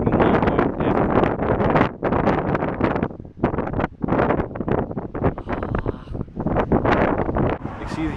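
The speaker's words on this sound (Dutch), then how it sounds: "Ik weet dat er echt behoorlijk veel wind staat." Strong gusty wind on Santa Catalina Island buffeting the microphone, loud roaring bursts with brief lulls, continuous across the whole stretch.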